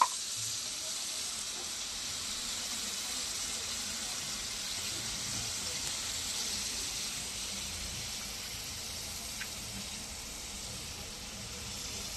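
Poppy seeds fry in a pan in a home kitchen, giving a steady, even sizzle and hiss that runs unbroken for the whole stretch at moderate loudness, with no talking.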